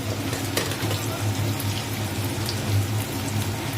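Pieces of food deep-frying in hot oil in a pan until reddish, giving a dense, continuous sizzle and crackle at close range with a steady low hum beneath.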